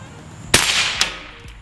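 A loud, sharp rifle shot fired from a rifle with an Elcan Specter DR scope outdoors, followed by a quick echo or second crack and a faint tail, close and alone.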